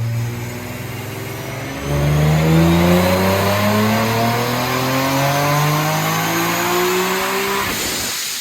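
A supercharged Nissan 370Z making over 700 wheel horsepower through a MiniZed cog drive blower setup revs hard and close, its engine note climbing steadily over several seconds before cutting off sharply at the end.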